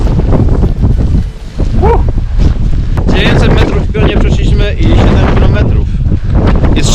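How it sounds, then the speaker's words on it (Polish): Strong wind roars and buffets the microphone continuously, loud and rumbling, with bits of indistinct voice underneath. "Bardzo mocny wiatr"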